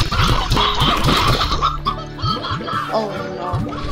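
Hens in the video game Slime Rancher cluck and scratch in a busy cluster, with repeated short bird calls and rustling close up and fairly loud.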